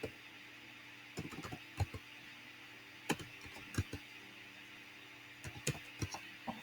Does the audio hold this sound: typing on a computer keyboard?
yes